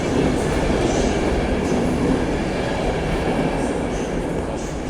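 A Berlin–Warsaw Express EIC train rumbles steadily nearby at Warszawa Centralna station, a broad continuous roar of rail noise with faint squeals, no voices.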